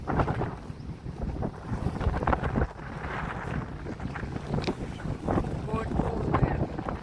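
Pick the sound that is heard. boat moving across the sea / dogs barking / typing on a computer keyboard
boat moving across the sea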